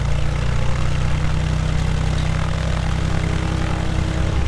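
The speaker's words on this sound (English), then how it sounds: "right, we got the engine started." A Cessna 172 light aircraft's piston engine idles just after start, a steady, loud, close propeller drone throbbing evenly throughout with no voices.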